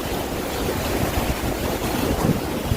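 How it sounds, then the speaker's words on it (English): Rough ocean water off Jamaica churning with waves, a steady full-band roar of surf and wind buffeting the microphone, loud and continuous throughout. "look how rough this water is"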